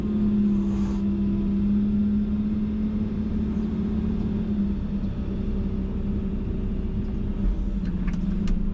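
A tracked machine's engine drones steadily under throttle, a loud, continuous low rumble with a firm hum that holds for nearly nine seconds, with faint clanks near the end.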